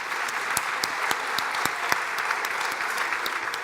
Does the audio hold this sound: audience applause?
yes